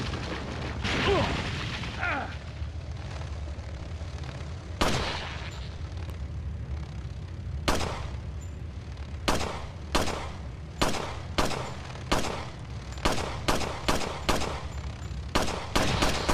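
Repeated gunshots in the video game Resident Evil 4, sharp loud bursts coming irregularly and then faster toward the end over a low droning background, with someone talking briefly at the start.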